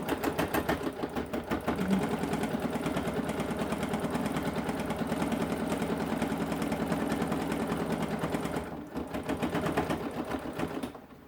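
Sewing machine stitching a crossbody bag seam through bulky corners with a 1/2 inch seam allowance, a steady close mechanical whir running continuously, briefly pausing near the end before resuming.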